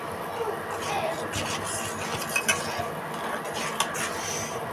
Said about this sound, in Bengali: এখন ভালো করে কষায় নেব এটাকে।